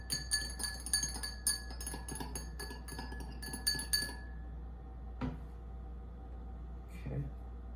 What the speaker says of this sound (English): I'm gonna put some ice in it. Got me a little spoon here. I'm gonna stir it up.